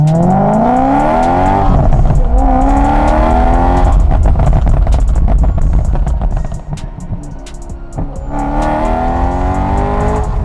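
Loud BMW M3 engine with a burble exhaust tune revving up and down close by, with rapid crackling exhaust pops and bangs scattered between the revs.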